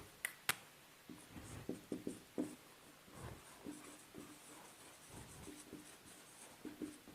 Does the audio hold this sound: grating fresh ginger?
no